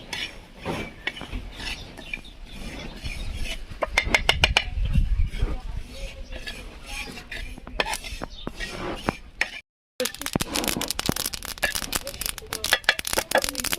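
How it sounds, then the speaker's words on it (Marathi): Sesame seeds roast on a griddle while being stirred, with close rasping scrapes and rapid metallic clicks of a utensil on the hot surface, dense and rhythmic, briefly cutting out before resuming, with a person talking at times. "तीळ मी तव्यावर टाकून घेतले आणि याला परतून घेतो"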